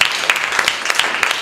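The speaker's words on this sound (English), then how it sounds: "A round of applause" Audience applause at an improv comedy show, a dense crowd clapping with scattered sharp claps standing out, loud and steady for a short burst.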